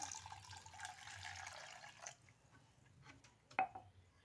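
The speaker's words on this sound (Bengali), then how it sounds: "জলটা আমি ঢেলে দিচ্ছি" Water pours into a raw mango sherbet mix, a faint splashing wash for about two seconds, then near silence broken by a single soft clink.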